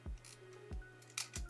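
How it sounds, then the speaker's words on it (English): Three quiet mechanical clicks with light ratcheting in a regular rhythm, close by, as the film-advance lever is wound on an Olympus Pen EE-3 half-frame film camera. "now we are going to advance the film"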